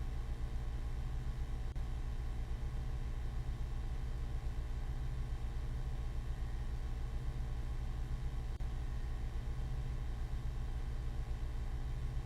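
A car engine in the video game Bahnsen Knights rumbles as the car drives, a steady, low, even drone that continues unchanged and moderately quiet the whole time.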